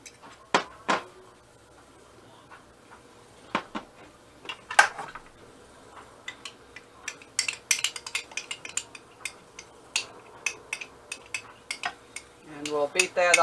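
A spoon and bowl clink and scrape while molasses is beaten into a spice cookie batter, with sparse, irregular knocks that get busier and louder toward the end, and no talking.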